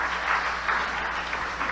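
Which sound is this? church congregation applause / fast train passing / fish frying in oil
church congregation applause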